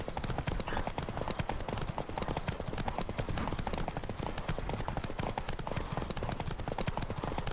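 Roach, a horse in The Witcher 3, gallops steadily with rapid, continuous hoofbeats, close and busy over game ambience with no break in rhythm.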